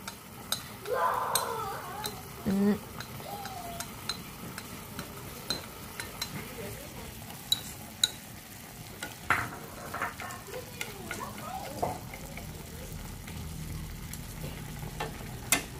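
Tofu skin braising in a pot for a vegetarian dish sizzles steadily while a utensil stirs and scrapes, leaving irregular clicks and knocks against the pot. No one speaks.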